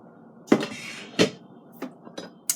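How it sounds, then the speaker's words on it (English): A metal cooking pot lid clanks and rattles a few times against the rim of an Instant Pot Duo Mini holding chili, sharp close clinks spaced apart with quiet pauses between them. "This is the lid I put on here from a cooking pot"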